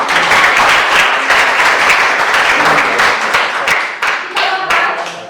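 A classroom full of people claps loudly for several seconds, the applause thinning into scattered individual claps near the end, with some voices mixed in.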